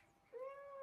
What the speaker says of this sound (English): She's really an affectionate cat.